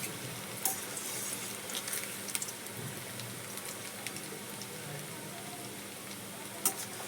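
A crispy snack fries in a pan over low gas while it is stirred. A quiet, even sizzle carries throughout, broken by occasional small clicks and scrapes from the stirring.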